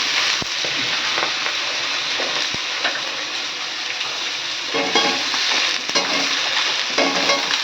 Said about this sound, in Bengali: এবার আমি ধুয়ে রাখা সবজিটা দিয়ে দেবো।